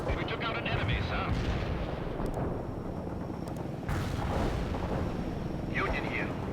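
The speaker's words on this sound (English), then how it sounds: "The artillery strike will hit right on the mark." An artillery strike in the World in Conflict video game: a continuous rumble of booming impacts and blasts, loud and dense, with a sharp surge midway and faint radio-style voice chatter mixed in.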